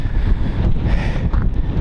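Strong wind storm in Central Washington roaring across an exposed microphone, a loud continuous buffeting rush with gusty surges and no speech.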